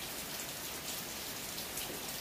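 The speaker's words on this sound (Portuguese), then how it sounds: "hoje amanheceu chovendo, trabalhamos amanhã todo debaixo de chuva" Steady rain pours over a mahogany replanting plantation, a dense, even hiss of drops with no pauses and no voices.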